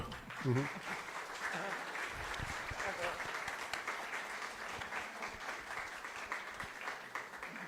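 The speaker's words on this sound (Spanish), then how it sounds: "démosle un aplauso, por favor" Audience applause at the close of a lecture on classical philosophy: dense, steady clapping fills the room for several seconds, with a voice briefly heard over it near the start.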